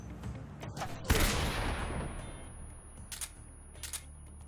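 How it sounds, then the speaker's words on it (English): A stun grenade goes off in Metal Gear Solid 3 with one loud, sharp bang that trails into a long, noisy hiss. A couple of fainter clicks or pops follow near the end. "Stun grenade."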